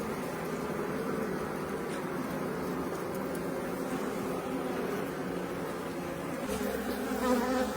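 Dense, steady buzzing of many honeybees at a hive settling around a newly released queen, a continuous close drone that swells slightly near the end, with no talking.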